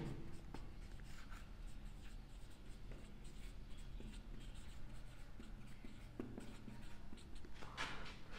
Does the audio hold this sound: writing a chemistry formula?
yes